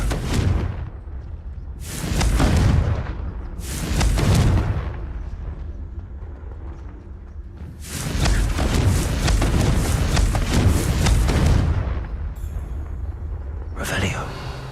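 Confringo blasting spell explosions in the video game Hogwarts Legacy, several loud booming blasts with rumbling tails arriving in bursts, the longest lasting several seconds, with game audio in between.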